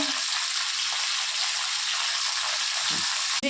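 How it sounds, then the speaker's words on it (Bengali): Vegetables with turmeric, salt and green chilies frying in a pan, a loud, continuous hiss of sizzling oil held steady throughout, with no talking. "একটু ভাজা ভাজা করে নিলাম।"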